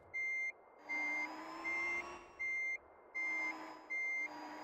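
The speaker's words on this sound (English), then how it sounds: "You can hear the backup beeper so well." Electric truck in American Truck Simulator reversing, its backup beeper sounding six steady, evenly spaced tones over a low, constant electric whine, clear and close with no talk.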